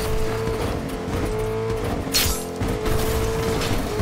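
A video game car drives steadily with a continuous engine drone and road noise, loud and close, with a brief whooshing burst partway through; no talking.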